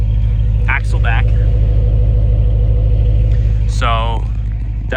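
A BMW E92 M3 with an M Performance Inconel axle-back exhaust and Valvetronic X-pipe idling with a low, steady rumble, with a person talking over it now and then.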